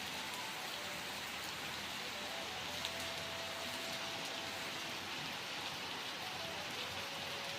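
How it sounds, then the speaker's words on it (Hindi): Light rain falls steadily on a hill-town market, an even, close hiss of drops with no voices and no breaks for the whole stretch. "अभी भी हल्की हल्की बारिश लगी हुई है।"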